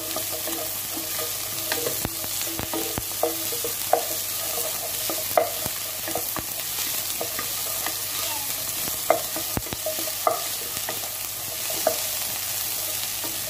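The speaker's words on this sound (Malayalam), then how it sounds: "നേരത്തെ അരിഞ്ഞു വെച്ച ഒണിയൻ സവാള ചേർത്ത് കൊടുക്കാം അതും ഒന്ന് നല്ലവണ്ണം മിക്സ് ചെയ്തെടുക്കണം" Chopped onions stirred into chilli chicken in a pan, a spatula scraping and knocking now and then over a constant soft sizzle, close and moderately loud.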